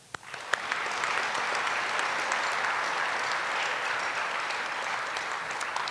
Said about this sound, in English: Let's take a moment to give another round of applause to Elizabeth for representing IMSA with such